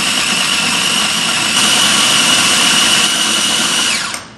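An electric grinder blends coarse, chunky sambal for a Vietnamese wok-tossed eel dish, giving a loud, steady motor whir for about four seconds before spinning down abruptly at the end, with no talking.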